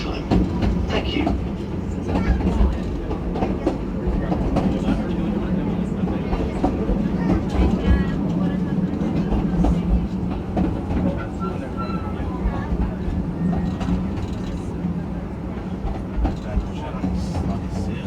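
A Brecon Mountain Railway train running along its track in Wales, a steady low rumble and rolling rattle of wheels and carriages continuing throughout at close range.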